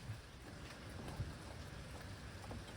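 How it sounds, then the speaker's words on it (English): Steady rain falls outdoors in wet weather around a Honda Element camper, a dense continuous patter with occasional heavier drops, fairly close and with no voices. "it's raining"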